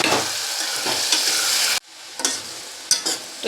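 Pigeon pea, tomato, potato and brinjal hit hot oil tempered with asafoetida and garlic chutney, a loud hissing sizzle that suddenly drops to quieter frying crackle broken by scraping stirs.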